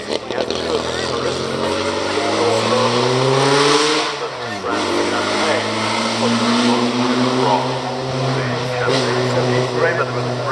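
A classic Bugatti racing car climbs Prescott hill, its engine revving loudly up through the gears with a sharp dip and gear change midway, while a commentator talks over the engine noise.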